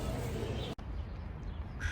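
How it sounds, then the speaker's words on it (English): Gray crows or ravens caw outdoors in Istanbul, faint and distant calls over a steady city background hum, with a brief dropout partway through. "I don't know if these are ravens or crows, but they're pretty gray"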